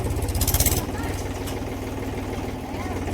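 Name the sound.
farm tractor engine running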